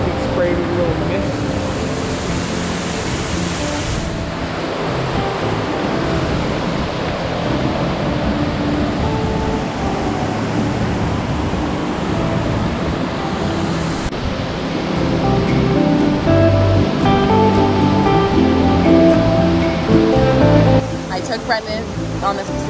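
Loud, steady roar of a waterfall on the Pacific Crest Trail in Oregon, a dense broadband rush of falling water that continues throughout, with voices talking faintly beneath it.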